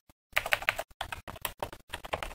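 Typing a program comment on a computer keyboard: quick, close runs of crisp key clicks with brief pauses between bursts.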